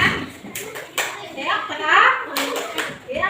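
Children in an Indonesian classroom perform a rhythmic tepuk clapping chant, sharp group claps landing in patterned bursts between young voices chanting and speaking close by.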